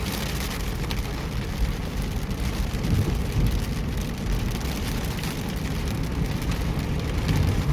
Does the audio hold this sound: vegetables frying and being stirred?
no